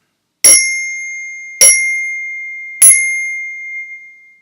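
Orchestra bells struck three times with a brass mallet, each hit a bright, sharp metallic ping with long ringing overtones decaying between evenly spaced strikes, heard alone and close.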